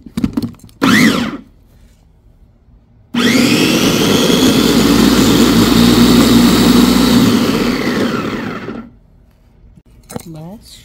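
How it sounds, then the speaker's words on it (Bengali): A blender grinding meat with egg for nargis kofta runs as a loud, steady whir for several seconds, starting abruptly and winding down, with a voice briefly before and after. "এখন ডিম দিয়ে তারপরে আমি পিষে নেব, তাতে করে একটু সফট হবে।"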